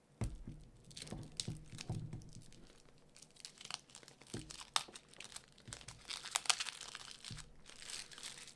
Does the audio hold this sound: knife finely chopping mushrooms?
no